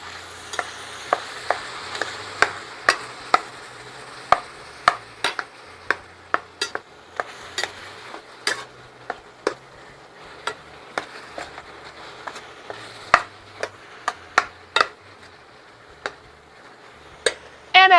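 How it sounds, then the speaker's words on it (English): Ground beef browning in a pan while being broken up for Philly cheesesteak balls: a steady sizzle underneath repeated sharp clicks and scrapes of a utensil against the pan, irregular and close, with no talking. "we're going to go ahead and break this up and start browning"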